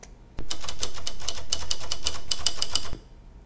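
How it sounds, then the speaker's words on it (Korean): Rapid typewriter key strikes form a steady, close run of crisp clacks that begins abruptly and stops sharply after about two and a half seconds, used as a sound effect for typed on-screen text. "제가 요 타자기 소리를 가져왔습니다"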